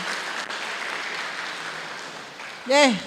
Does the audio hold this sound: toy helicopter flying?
no